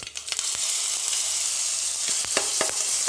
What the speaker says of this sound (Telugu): నేను తాలింపు వేస్తున్నాను చట్నీని